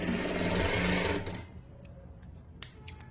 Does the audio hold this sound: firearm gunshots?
no